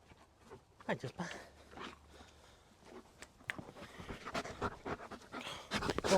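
Puppy named Jasper panting in quick, irregular huffs close by, with soft shuffling and a faint whimper, while someone talks quietly to it.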